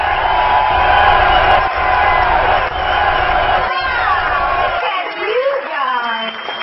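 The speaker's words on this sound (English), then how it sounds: "give the warm and rousing applause that she so sorely deserves" A crowd cheers and whoops loudly in welcome as a comedian is called to the stage at a comedy show, a dense sustained roar that thins toward the end, with some shouts standing out.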